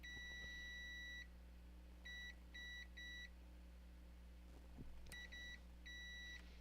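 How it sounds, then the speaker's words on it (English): Electronic beeps from a Honda ABS module under test, quiet high-pitched tones in short clusters, one long beep then groups of three, over a steady low hum. "So all four of these will beep together."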